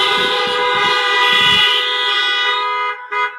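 Loud, sustained car horns blare together in a long chorus of honking, with traffic rumble underneath, then a final short toot at the end.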